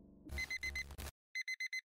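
An alarm clock in the game John Doe Plus beeps in quick bursts, first over a brief burst of loud, dense game noise, then as four clean, evenly spaced electronic beeps alone in silence.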